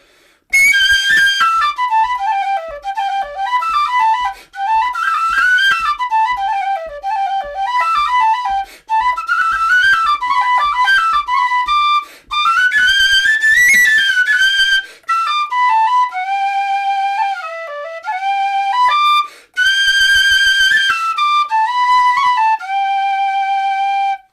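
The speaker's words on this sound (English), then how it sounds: "So that's my Weston Whistle boxwood." A Weston boxwood whistle plays a lively melody solo and up close, with bright ornamented phrases rising and falling, brief breaths between runs, and a few soft tapping sounds beneath.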